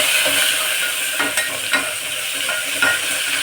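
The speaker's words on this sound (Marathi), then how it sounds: "थोडंसं राई ॲड करूया आपण गरम तेलामध्ये बघा मस्त हे होत आहे" Mustard seeds spluttering in hot oil while making dahi kadhi, a continuous close sizzle broken by scattered popping crackles, with no voices.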